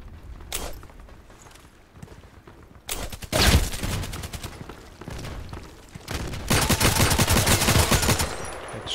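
Assault rifle fire in the online shooter Contract Wars: a brief shot early, then loud rapid automatic bursts at close range, with a longer sustained volley toward the end and quieter movement sounds between them.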